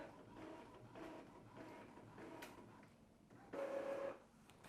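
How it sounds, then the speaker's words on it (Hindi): Faint mechanical whirring and soft clicks from an Epson inkjet printer initializing its carriage and feeding a sheet of paper, quiet with a brief louder motor burst near the end. "अब देखिए हमारे प्रिंटर में इनिशियलाइजेशन मूवमेंट स्टार्ट हो गया है और देखिए पेपर भी पिकअप हो गया है"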